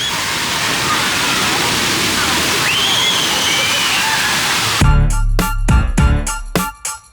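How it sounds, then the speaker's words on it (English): Water spurts from overhead at a water play area in a theme park, a loud continuous splashing rush with a brief squeal in the middle, ending in abrupt choppy bursts of spray. "It spurts out water from up there."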